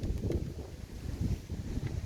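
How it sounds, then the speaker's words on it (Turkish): Gusty wind buffets the microphone in a steady low roar that surges and eases throughout, with no voices. "Bir tatlı rüzgar esiyor."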